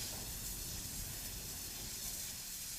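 Steam hisses from a steam crane servicing a steam locomotive in China, a steady broadband rushing hiss that stays constant and fairly faint throughout, with no voices.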